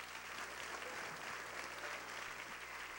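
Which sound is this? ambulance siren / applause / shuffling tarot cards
applause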